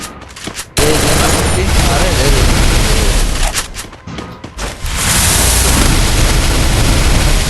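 MP40 submachine gun fire in a shooter video game, loud sustained bursts of rapid automatic shots cut by short pauses, with a voice talking over parts of it.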